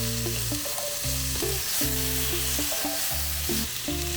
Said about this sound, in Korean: 기름을 살짝 두르고요. 밑간을 한 닭고기를 구워주도록 할게요.